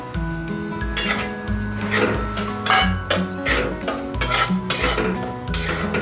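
Semolina (rava) being dry-roasted in a pan for Marathi karanji, a steady rhythmic scraping and rasping of a spoon stirring the grains against the metal, close and loud with no talking.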